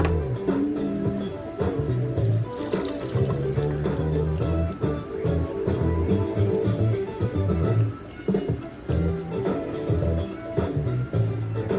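Water poured into an instant noodle bowl of Guangyou sour hot flavor noodles, a continuous gurgling pour running for several seconds with brief dips, close and fairly loud, with no talking over it.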